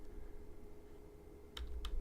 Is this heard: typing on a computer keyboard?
yes